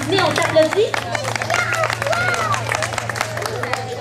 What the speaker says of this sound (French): j'aimerais ça qu'on s'applaudisse